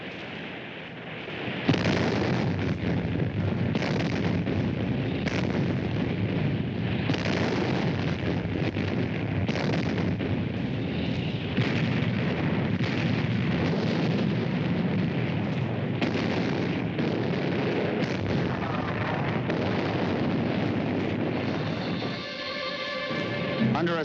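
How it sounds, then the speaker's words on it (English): Naval guns firing in an artillery bombardment during a World War II beach landing in the Italian Campaign, with loud, continuous rumbling blasts and booms that roll on for over twenty seconds, heard as archival battle audio. "The Navy guns finally get their chance."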